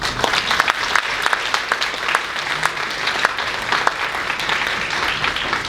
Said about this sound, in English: Please join me in giving a round of applause to everyone who made this evening possible.